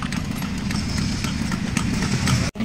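Horse hooves clip-clop steadily on a hard surface, from one of a group of five horses in Iligan City; the beats run continuously under a dense low rumble, loud and near, with a brief drop-out near the end.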